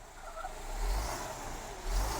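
Truck engine in a snow-covered parking lot, revved in neutral to raise the rear air suspension. Two low, rumbling swells of revving rise and fall, fairly close, with no speech.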